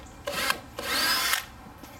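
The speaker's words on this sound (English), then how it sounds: "Alright, so I drilled the starter hole." A power drill bores a starter hole for a bumper latch on an Acura RSX, whirring in short bursts, two brief pulses then a longer sustained run biting into material, close by with no talking.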